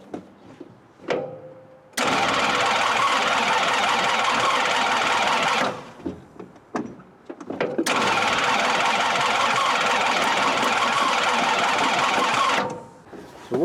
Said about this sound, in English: I'm going to at least try and crank it before all the fuel flows back down